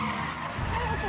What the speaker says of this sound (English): Papa Baker just jumps in the car that you meant to escape in and just tries to run you down with it in the garage